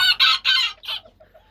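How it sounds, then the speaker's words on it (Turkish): A rooster clucks loudly up close, a quick series of three or four throaty calls trailing into softer murmurs. "Harika bir horoz gerçekten mükemmel."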